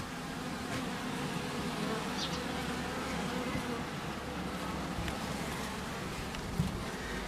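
A dense, low hum of many honeybees buzzing close by at an opened hive, steady throughout, with faint background noise.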